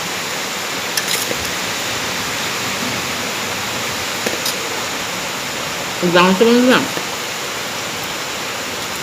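Heavy rain pours down outdoors as a continuous dense hiss, with a brief voice speaking partway through.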